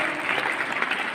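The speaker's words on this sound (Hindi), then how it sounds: "जोरदार तालियों के साथ अभिनंदन करते रहे" Applause from an audience at a rural girls' college function honouring a local MLA, a brief steady wash of clapping at moderate level with no voices over it.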